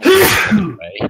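A single sharp human sneeze bursts out close and loud at the start, during a tabletop Dungeons & Dragons session, followed by a man's brief spoken word.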